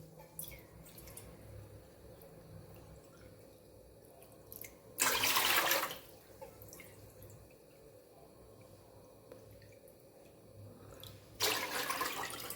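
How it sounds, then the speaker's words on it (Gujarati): Two short bursts of splashing water stand out against quiet kitchen background, like water poured from a bowl into a pot, the second following several seconds after the first: bowls of water added for wheat-and-rice-flour papad dough. "તો આપણે 3 વાટકા પાણી મૂકશું"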